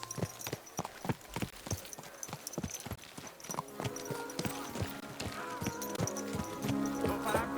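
Horse hooves clip-clop on a road in the video game Kingdom Come: Deliverance 2, crisp rhythmic steps close by that quicken, with a voice calling out and background music rising later.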